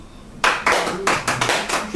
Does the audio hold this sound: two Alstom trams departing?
no